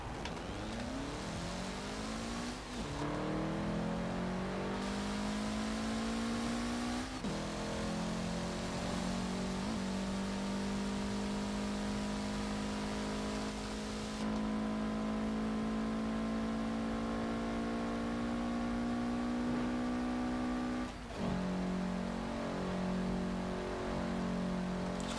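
Close and steady, a Mitsubishi car in Forza Horizon 4 drives hard, its engine climbing through the revs, shifting gears several times and holding long high-pitched pulls, with no talking over it.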